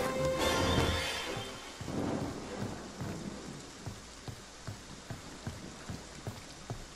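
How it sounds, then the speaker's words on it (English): Steady rain in the video game Friday the 13th: The Game, with a dense patter of drops, opening with a heavy rumbling burst like distant thunder, then settling into a softer shower with scattered taps. "I need an umbrella. It's raining outside."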